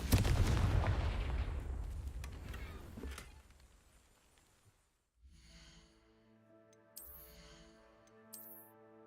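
A Confringo spell in the video game Hogwarts Legacy sets off a loud, close booming blast that rolls and fades over several seconds, followed by quieter tonal game sounds.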